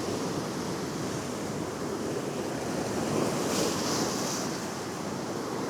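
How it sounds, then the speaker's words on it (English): Ocean swell and waves washing over a shallow reef, a steady broad roar of surf with a gentle surge midway, heard from nearby with some wind across the microphone. "All this swell and swash will be kicking up all sorts of nutrients and stuff."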